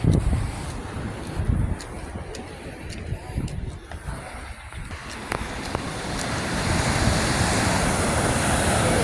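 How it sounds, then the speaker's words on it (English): Big ocean waves breaking on a beach where crows and seagulls gather, a steady loud roar of surf mixed with gusty wind buffeting the microphone throughout. "Whoa, there's some big waves."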